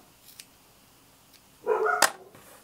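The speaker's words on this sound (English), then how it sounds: "They bark at everything," A dog at home gives a single sharp bark, loud and close, after near silence with a few faint ticks.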